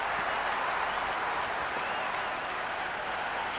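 Crowd at a cricket match in Cricket 26 applauding a four to the boundary: dense, loud, continuous clapping and cheering that fills the stadium without a break.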